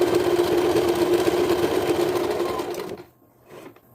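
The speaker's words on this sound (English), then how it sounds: "Using the zigzag stitch, of course, to sew this together." A sewing machine runs a zigzag stitch to join patchwork fabric for shorts, a steady loud motor whir for about three seconds that cuts off abruptly, followed by faint handling sounds.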